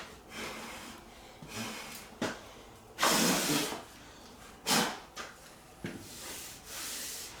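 Compressed air blasts dust off a Cutlass car being prepared for paint. Short, loud hissing bursts come between quieter rubbing and shuffling sounds, close by and with no talking.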